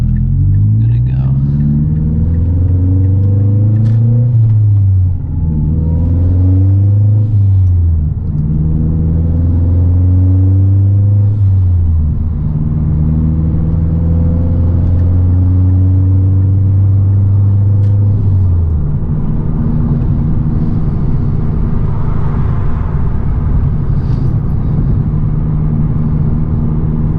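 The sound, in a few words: Mazda Speed 3 engine and exhaust while driving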